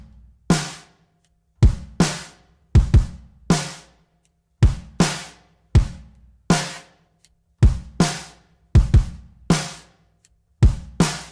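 Drum bus in a mix processed with a Waves SSL channel EQ: punchy kick and snare hits strike in a steady, spaced groove, each decaying quickly into short silences.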